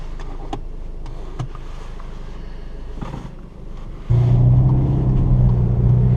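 Skoda Octavia vRS TDI 4x4 diesel with DSG gearbox, push-button started in Estonia: after a quiet cabin stretch the engine catches abruptly and settles into a steady, loud low idle rumble, heard from inside without talk.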